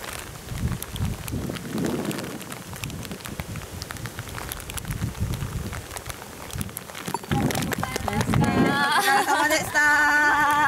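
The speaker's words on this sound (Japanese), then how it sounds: "雨が降ってきました。" Rain falling on a golf course during a women's golf tournament round, a steady broadband hiss of drops that grows heavier and louder toward the end, with a brief tonal chime or signal near the close.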